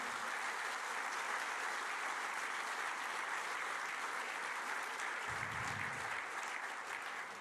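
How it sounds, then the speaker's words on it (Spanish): A church congregation breaks into steady, full applause during a sermon, a dense continuous wash of clapping that holds at an even level throughout, with no talking over it. "Le da un aplauso ahí al Señor."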